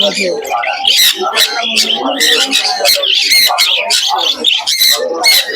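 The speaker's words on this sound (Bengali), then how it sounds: "দেখুন প্রচুর পাখি" Dense chorus of pigeons cooing, squawking and fluttering at a busy pigeon market in Krishnanagar, loud and continuous from start to finish, with vendors and buyers talking underneath.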